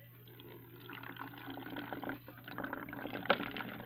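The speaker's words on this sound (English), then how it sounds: "I'm gonna have to put water in here" Water poured into a plastic pop bottle being made into a bug trap gives a faint, close trickling and filling sound that grows slightly busier over a few seconds.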